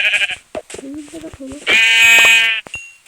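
A loud, sustained sheep bleat from Minecraft with a wavering tone rises after some brief speech, followed by a short quieter bleat near the end.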